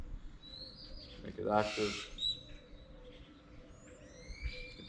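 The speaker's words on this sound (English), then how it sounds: "Get some nature sounds around you with some birds squeaking" Birds chirp and squeak outdoors in short, thin calls scattered across the background, fairly faint, while a person speaks briefly in the middle.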